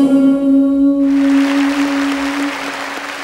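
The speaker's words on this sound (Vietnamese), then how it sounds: "cảm ơn những tiếng vỗ tay của quý vị" Applause from an audience at a live concert of veteran Vietnamese singers, a broad steady wash of clapping rising after the music ends, with a sustained held note lingering underneath.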